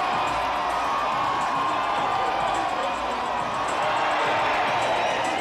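A large crowd packed in the street cheers at Snoop Dogg, who appears on the Girls Gone Wild balcony, a dense, continuous roar of shouting and whooping that stays loud throughout.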